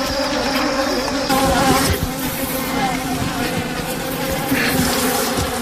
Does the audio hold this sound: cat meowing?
no